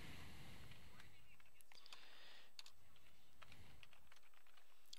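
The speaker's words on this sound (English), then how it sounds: "We push the apostrophe button and push C, and we have the C cédille." Typing on a Mac computer keyboard, a few quiet scattered keystrokes at close range, faint and irregular under a low background hiss.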